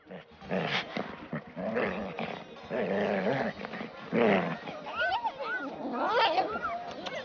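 Village dogs growl and bark at an outdoor dog audition in a school playground, a continuous rough, snarling chorus running under a voice that keeps talking throughout.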